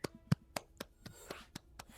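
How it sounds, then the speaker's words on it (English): Hands clap about eight times in a steady rhythm. The claps are close and fairly crisp, with faint background noise and no clear talk between them. "I'm clapping."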